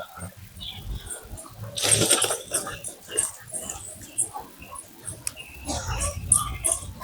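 Dogs scuffle and whimper close by while a person talks to them over a busy outdoor background.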